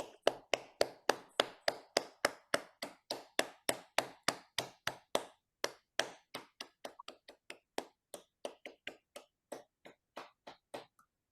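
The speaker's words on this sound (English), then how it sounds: "Let us show our appreciation for their efforts with a round of applause." Evenly spaced claps from an audience at a meditation talk ring out one after another for about eleven seconds, then slow and soften toward the end.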